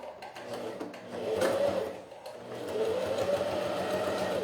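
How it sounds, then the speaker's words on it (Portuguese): A sewing machine runs in short bursts, stitching the second side of a fabric jewelry box pocket without pins, its motor whirring and needle clattering up close with brief pauses between runs. "Um lado eu já deixei costurado e agora, ó, vou costurar o outro aqui."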